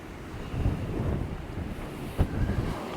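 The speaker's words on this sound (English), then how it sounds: "but the wind is so rough." Strong wind buffets the microphone on a stormy beach at Walcott, a continuous rough roar with surf rumbling underneath and one brief sharper gust-knock near the end.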